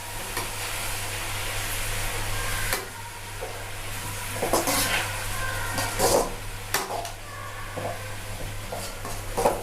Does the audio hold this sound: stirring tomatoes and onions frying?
yes